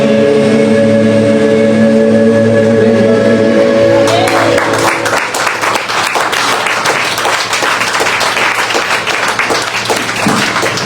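A church congregation at a prayer-house service breaks into applause after a sustained musical tone fades, with loud, dense clapping that starts about four seconds in and continues steadily to the end.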